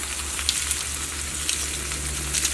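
Red chillies frying slowly in a pan over a low flame for a chutney, a continuous dense close sizzle with faint occasional pops and scrapes, no talk.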